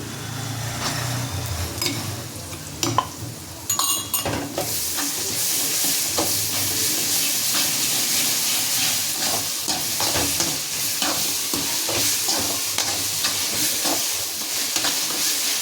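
Ginger garlic paste fries in a pan for chicken kuzhambu, making a loud, continuous hissing sizzle under a few sharp clanks of stirring early on, then a steady spitting crackle with no one talking.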